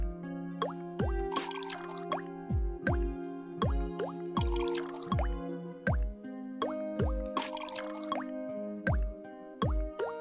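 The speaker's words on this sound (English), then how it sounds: "There's different drip noises." Water drips and plops fall in a steady musical rhythm within the cozy rhythm video game Melatonin, layered over a looping tonal backing track with several distinct drip pitches, clear and close without speech.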